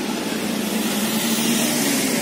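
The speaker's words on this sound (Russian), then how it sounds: "Ой, как машина." A car passes along a small side street carrying diverted traffic while the main road is under repair, a steady loud engine drone with no gaps, close by and without talk.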